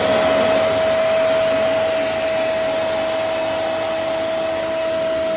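A Black and Decker VM1480 1480W vacuum cleaner runs continuously, a loud, close, steady motor whine with a sustained tonal hum and no speech.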